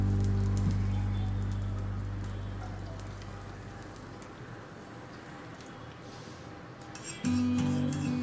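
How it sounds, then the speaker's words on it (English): Omelette mix of egg and cheese poured into a pan of melted butter, giving a steady, hissing sizzle like light rain that fades slightly, then rises with a brief clatter near the end. "Now we can put the mix into the pan."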